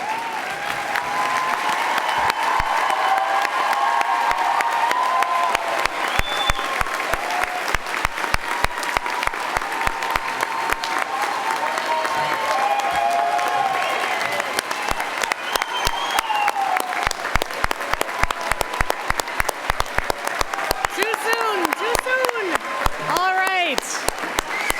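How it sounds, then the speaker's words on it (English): A graduation audience stands and applauds at a university convocation, sustained loud clapping from a large crowd for about twenty-five seconds with some voices and cheers mixed in. "I didn't even have to prompt them to stand up and applaud."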